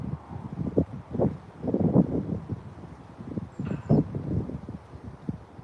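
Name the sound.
strong wind near Preston, Lancashire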